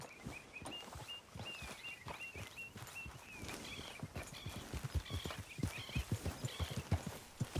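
Horse hooves clip-clop at a steady walking pace in the game Red Dead Redemption 2, a close, rhythmic series of clops over soft ground with bird calls chirping in the background and no speech.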